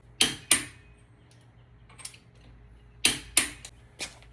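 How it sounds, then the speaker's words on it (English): A torque wrench tightens lug nuts on a Ford Mustang GT350 fitted with new magnesium wheels, set to 150 foot-pounds. Sharp metallic clicks come in two close pairs, separated by a quiet pause, with faint mechanical ticks between them. "Don't forget to torque your lug nuts."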